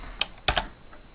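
A few quick key presses on a computer keyboard as a password is entered, three crisp clicks close together, near and fairly quiet with no talking.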